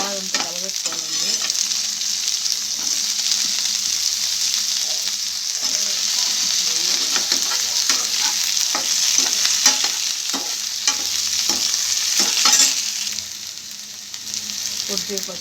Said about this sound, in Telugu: వంకాయలు వేసేస్తున్నాను. బాగా అంతా కలబెట్టుకోవాలండి.